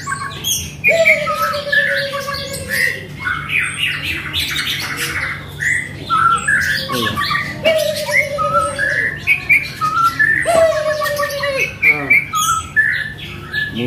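A magpie-robin (murai) sings loudly and close by while perched outside its cage, giving repeated whistled notes, squawks and rapid chirps in varied bursts throughout.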